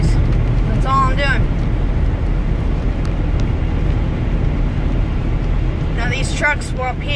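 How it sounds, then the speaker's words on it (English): Heavy trucks drive on a hilly road near a landfill, a steady loud engine rumble and road roar running throughout, with brief voices or horn-like tones rising over it near the start and end. "trucks up here will go slower than the speed limit"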